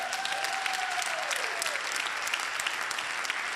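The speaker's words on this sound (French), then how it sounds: "Est-ce qu'on peut leur donner une main d'applaudissement?" Applause from a church congregation welcoming newly appointed deacon leaders, a steady wash of many hands clapping at moderate level throughout, with a faint sustained tone fading over the first half.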